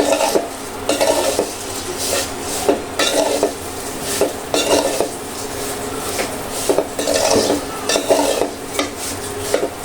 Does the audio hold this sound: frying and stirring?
yes